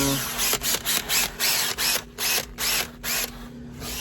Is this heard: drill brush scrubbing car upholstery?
yes